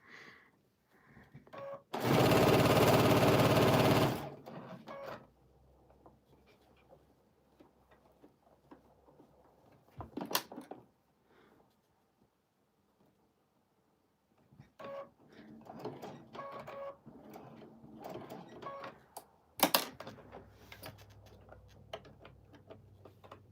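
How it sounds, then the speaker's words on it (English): Sewing machine stitching binding onto a quilt, with short bursts of rapid ticking stitches separated by pauses and quiet handling noises, recorded close in a quiet room. "I'm trying to sew on some binding"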